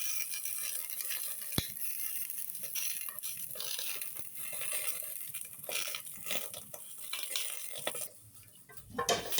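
Fish frying on a banana leaf in a pan, a steady close sizzle with scattered crackles and a sharp tap or two, a quieter stretch near the end.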